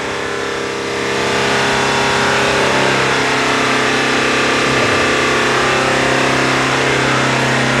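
A Toyota Hilux engine being checked for misfiring revs up after about a second and holds a loud, steady, rough drone close by for the rest of the stretch, with no talk.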